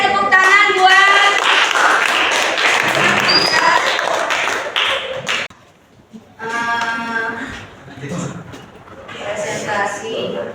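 Audience applause follows a group presentation in a classroom, a busy patter of hands mixed with loud voices and cheering, with a brief lull before the chatter and scattered claps resume.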